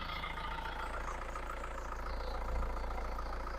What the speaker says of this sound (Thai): เสียงเครื่องยนต์ของ i s u สุจะดังนิ่ม นุ่ม เงียบนะครับ